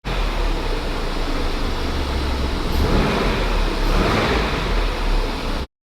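A Range Rover SVR's V8 engine runs steadily, a dense broadband roar with a low rumble, loud and close with no speech.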